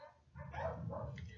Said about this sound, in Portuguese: Tem um monte de cachorro latindo